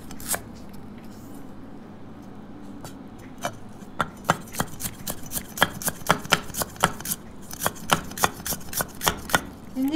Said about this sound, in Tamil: இஞ்சியை வந்து பொடியாக நறுக்கி போடுங்க